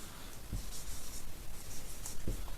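Steady scratching of a pen or pencil writing a sentence on paper, continuous and fairly close, with a few soft taps and bumps as the writing goes on.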